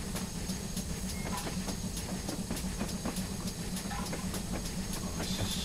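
GWR Hall 4900 Class steam locomotive running on the Falmouth Branch Line in Train Simulator, with steady rhythmic chuffing beats, hiss and rolling rail clatter, close and continuous without speech.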